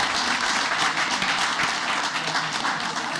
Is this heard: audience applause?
yes